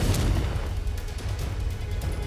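A Confringo explosion spell goes off in the Hogwarts Legacy video game, a deep, booming blast with a rumbling low roar that fills the short moment, followed by crackling bursts.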